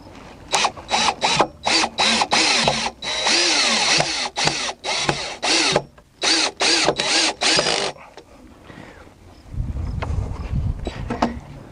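A power drill drives screws into a 4x4 wooden post in loud, close whirring bursts of varying length with short stops between, followed by a low thud and rustle at the end.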